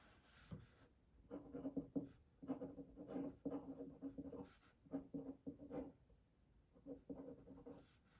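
Pen or marker writing on a board while sketching chemistry molecules, a soft scratchy squeak in a steady run of short strokes, quiet and close with no talk.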